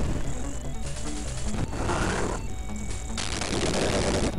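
Gunfire in The Lost World: Jurassic Park on the Sega Genesis, with harsh, dense bursts of game shots and noise that continue steadily over the whole stretch, loud and without speech.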